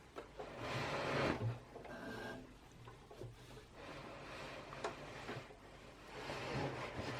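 A Janome sewing machine stitches fabric in short runs, a soft mechanical whirring that rises and falls with pauses between bursts, quiet and close.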